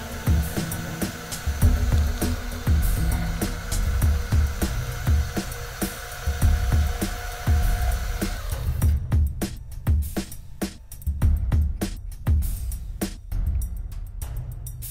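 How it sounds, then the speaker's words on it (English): Metal lathe facing off and chamfering a steel ball, a steady close machine drone with rhythmic scraping cutting pulses, turning into sharper, more separated chattering strokes in the second half. "Now we'll face off the other side here and give a chamfer just so it has a nice fit."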